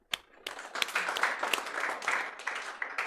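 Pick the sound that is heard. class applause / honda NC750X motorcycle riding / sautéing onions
class applause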